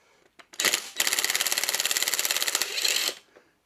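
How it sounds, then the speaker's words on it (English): Impact wrench on a 22mm socket hammering at a motorcycle starter sprocket on a Moto Morini, a brief spin-up followed by about two seconds of rapid, loud, evenly pulsing blows, then winding down, with no voices. "Just use the impact on it. I'll put it on the lowest to start with."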